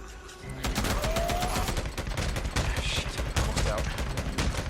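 Rapid gunfire bursts from the Days Gone video game, dense overlapping shots firing continuously and loud throughout, with a voice faintly mixed underneath.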